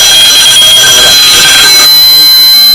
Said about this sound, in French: vous allez voir que le son est extrêmement fort à la sonnerie